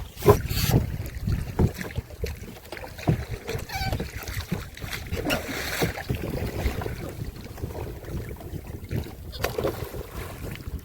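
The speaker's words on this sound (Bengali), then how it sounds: "প্রচণ্ড উত্তরে হাওয়া, নৌকায় অসুবিধা হচ্ছে, যার জন্য এই ডাড় মারা লাগছে মাঝে মাঝে।" A small fishing boat on a Sundarban river is rowed with oars against a fierce north wind. Irregular oar knocks and splashes come close by, over gusty wind rumble and a faint voice.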